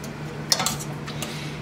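A pastry fork mashes about three cups of peeled, pitted peaches in a pan for jam, making soft squishes with a few light metal clinks and scrapes against the pan.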